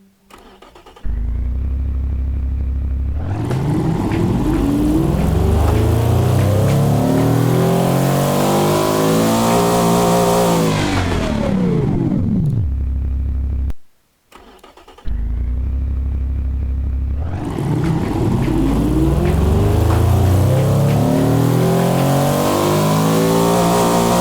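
A very large engine in the Automation car tycoon game roars loudly, rising and falling through long revving sweeps, cutting out briefly, then revving hard again with no talk.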